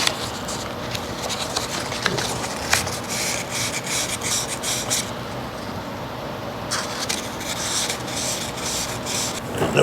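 A Ford AOD automatic transmission valve is spun and rubbed against an abrasive sheet to take off a sharp edge, a continuous close gritty scraping with repeated strokes and one brief pause partway through.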